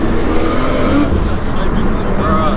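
A 700bhp Nissan R33 Skyline engine runs on high boost, a loud, continuous roar close by with a steady level throughout, and people talk over it.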